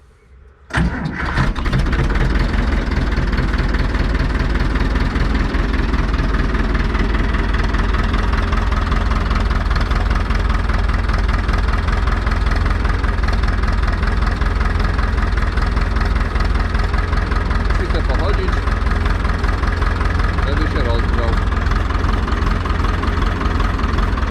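An Ursus C355 tractor's diesel engine cranks and catches after a brief pause, then settles into a loud, steady knocking idle that runs unbroken for over twenty seconds, close by and with no talking over it.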